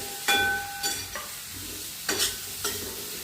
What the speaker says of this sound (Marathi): आता हे त्याच्यात घालून घ्यायचं सगळं जरा हलवून घ्यायचं तेलात